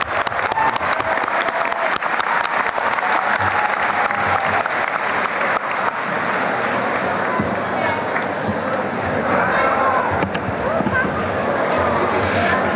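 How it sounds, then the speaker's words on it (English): Sustained loud crowd applause for engineering graduates at a university commencement ceremony, dense clapping filling the whole stretch with a murmur of crowd noise underneath. "Let's give a big round of applause to our graduates."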